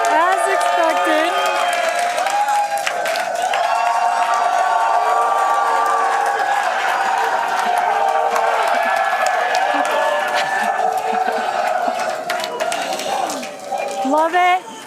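Large crowd at a SpaceX Starship launch viewing cheering, whooping and applauding in a sustained roar, with voices and shouts mixed in; the noise stays loud throughout and eases slightly near the end.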